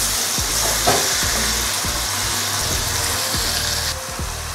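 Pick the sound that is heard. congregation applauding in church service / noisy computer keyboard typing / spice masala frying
spice masala frying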